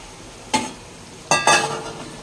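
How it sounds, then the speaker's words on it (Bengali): Fried prawns being stirred into spiced potatoes in a pan: three brief, loud bursts of sizzling and scraping against a quiet background, with no one speaking. "মশলা দিয়ে আলু কষিয়ে তারপর চিংড়ি মাছ ভাজাটা দিয়ে দেবো"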